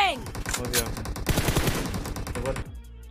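Rapid automatic gunfire bursts from an online shooter video game, dense crackling shots and rattling reports filling most of the moment before cutting off abruptly, loud and up front.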